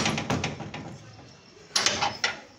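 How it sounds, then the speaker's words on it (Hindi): A house door is shut with a couple of knocks and rattles, then a louder cluster of thuds and clacks near the end, nearby and moderately loud. "दरवाजा लगाते हैं"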